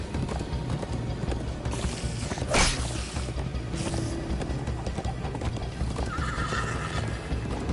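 Horse hooves clip-clopping at a gallop with a sharp whinny in the Minecraft: Story Mode game, a steady rapid hoof rhythm with louder bursts and mechanical game sounds in the background.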